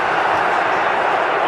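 Football crowd at an Algeria vs Uganda World Cup qualifier roaring steadily, a broad continuous stadium wash of voices urging a player forward, loud and sustained throughout.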